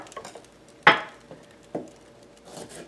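A knife cutting large garlic cloves into big chunks on a board: one sharp, crisp chop stands out, followed by a softer cut and light tapping, close and otherwise quiet.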